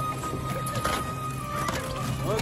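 A shikara boat paddled through ice on frozen Dal Lake in Srinagar in winter, a steady wash of sloshing water, scraping ice and creaking hull, close and continuous with no pauses.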